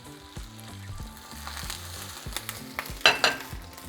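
Water goes into a hot pan of softened tomatoes for a seafood soup, setting off busy sizzling and frying crackle with stirring clatter and a few sharp spatters near the end, close up with no talk.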